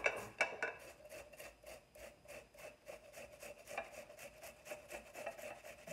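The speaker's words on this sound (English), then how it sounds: "a half of purple onion that I'm going to grater fine right here." Half a purple onion is finely grated by hand, making quiet, close, rhythmic rasping strokes at about three per second throughout.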